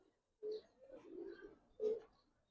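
Giribaz highflyer pigeons give two short soft coos close by, with a quieter, murmuring stretch between them in an otherwise quiet space.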